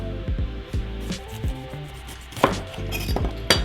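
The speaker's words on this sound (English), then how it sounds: "So how we're gonna cut the capsicums, we're gonna cut the lid off" A small knife cuts the lid off a capsicum with close, repeated crisp cuts and scraping strokes against a board, a couple of sharper snaps near the end.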